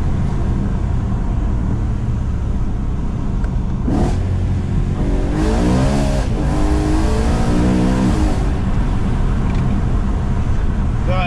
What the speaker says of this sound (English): But listen to the downshift again.